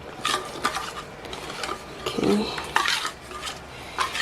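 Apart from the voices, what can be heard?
stirring custard made from custard powder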